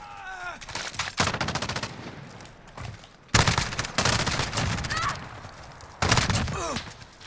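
Rapid automatic fire from an MP9 submachine gun in Call of Duty Modern Warfare, with several loud sustained bursts separated by short gaps and faint game effects between them.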